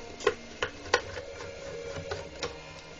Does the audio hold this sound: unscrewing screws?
yes